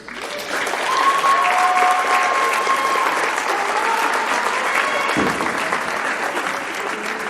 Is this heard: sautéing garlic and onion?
no